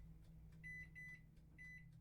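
Short, high electronic beeps as an oven timer is set while the oven bakes, coming in quick clusters over a quiet low hum.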